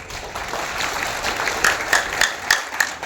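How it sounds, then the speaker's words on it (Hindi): A crowd at a Jan Suraaj political meeting gives modest, fairly subdued clapping, with a few sharper rhythmic bursts toward the end. "ताली जोर से नहीं बजा लगा"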